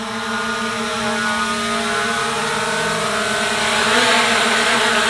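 Hubsan Zino 2 drone hovering low while being brought down to land, a steady loud propeller whine with stable harmonic tones that swells slightly toward the end, with no talking.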